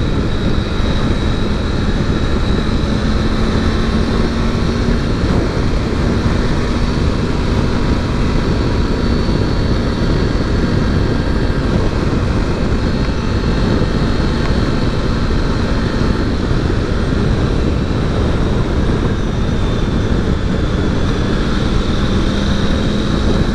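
A green Triumph Tiger 900 Rally Pro motorcycle on the move, its engine giving a steady, unbroken drone wrapped in constant wind rush for the whole stretch, with no one talking.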